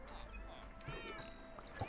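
Cats meowing in the video game Minecraft: a couple of short, soft meows sound over a steady background hum, with faint game noise around them.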